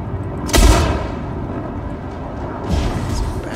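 Mortar fire in a video game lands as a sharp, loud boom followed by a rumbling tail, then a second, softer blast a couple of seconds later.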